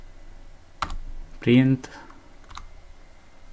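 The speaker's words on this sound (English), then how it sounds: "and I'll type print instructions" A few clicks of typing on a computer keyboard while writing Python code, with a short spoken word between separated key taps, fairly close and quiet.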